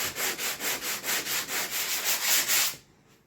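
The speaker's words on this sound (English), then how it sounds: "I'll just keep sanding it until the metal starts to show" Rhythmic back-and-forth block-sanding strokes rasp over body filler on a Toyota Sequoia's metal body, about a dozen even passes, close by, then stopping abruptly.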